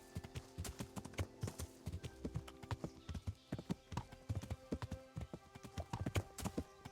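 Horse hooves clip-clop in a quick, steady rhythm as a rider moves off at pace in Kingdom Come Deliverance, clear and close, with a jingle of tack over the hoofbeats.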